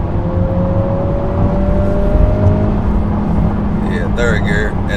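Acura Integra engine revving in third gear from inside the moving car, a steady loud drone with a rising tone that climbs then falls away, road noise throughout and a voice talking near the end.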